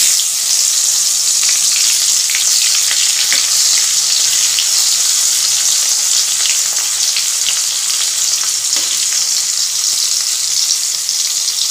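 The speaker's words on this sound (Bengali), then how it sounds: "এবার আমি একই তেলে ভেজে নেব উচ্ছে।" Bitter gourd slices fry in hot oil with a loud, steady, bright sizzle that hisses on without pause, broken only by faint crackles and pops.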